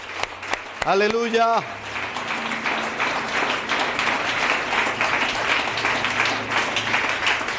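A church congregation breaks into sustained applause after a single voice calls out in praise during a worship service; dense, steady clapping fills the room for several seconds at a fairly even level.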